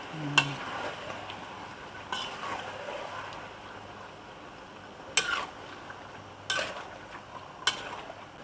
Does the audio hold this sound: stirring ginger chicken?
yes